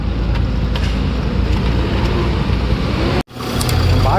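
A loaded truck's engine runs steadily at close range while being driven forward at a cargo freight station, with the rumble cutting out briefly near the end before resuming.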